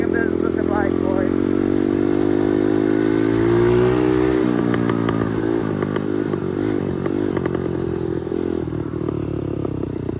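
A dirt bike engine runs loud and close while riding, holding a steady drone before shifting pitch and clattering through gear changes, with no talk in the clip.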